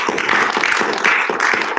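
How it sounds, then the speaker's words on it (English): An audience claps loosely and unevenly at first, a dense crowd of hand claps with rough, surging pulses, fairly loud and close with no talk over it. "I'm going to have you all start clapping."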